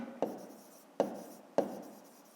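Pen or pencil writing by hand on paper while working a fifth-grade math exercise, heard as three short scratchy strokes, each starting sharply and fading, close and quiet with no talking.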